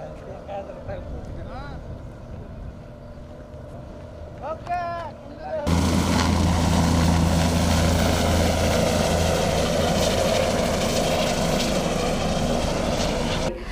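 A festival helicopter ride at the Basava Utsav in Basavakalyan begins with voices and faint background noise. A loud, close rotor and engine roar then cuts in abruptly and holds steady until the end.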